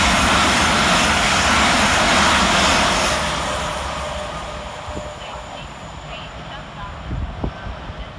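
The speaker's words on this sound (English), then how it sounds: "Next passing through on the fast line is 387 134 and 387 130, working 1T65 for Heathrow Express" Two Heathrow Express Class 387 electric trains passing through Hanwell station on the fast line, a loud close roar that fades into a lower rumble with rail clatter and a few sharp clicks, with talk over the passing.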